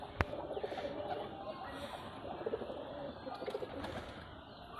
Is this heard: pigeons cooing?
yes